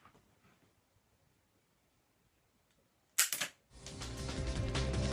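A compact LEGO Technic survival pistol fires once with a sharp close snap after near silence, followed by a sustained rattling clatter as the target is struck.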